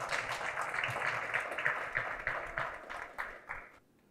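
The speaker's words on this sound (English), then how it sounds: "So give him a round of applause, please." A graduation ceremony audience gives a round of applause, a dense patter of claps that holds steady, thins out with a few last claps and stops, moderately near with no talk over it.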